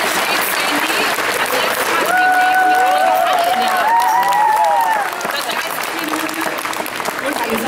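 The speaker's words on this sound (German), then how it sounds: "Sie können gerne klatschen" Audience applause at a live stage event during a guitar lesson, a dense continuous clapping wash held for the whole stretch, with brief melodic tones rising over it midway.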